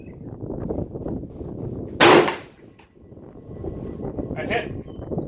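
A single loud rifle shot from a Mauser or Arisaka firing reloaded ammunition at a range, a sharp crack with a brief decay, with someone talking before and after.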